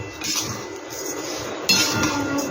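Vermicelli lightly fried in a pan, with a steady close sizzle and crackle and a few sharp metallic clinks from a spatula against the pan.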